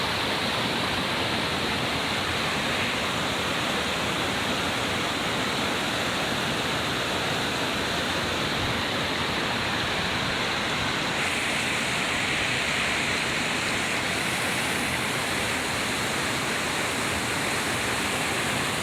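A waterfall pours steadily in the open air near the dinosaur footprint site, a loud, unbroken rush of falling water that fills the whole scene without pause.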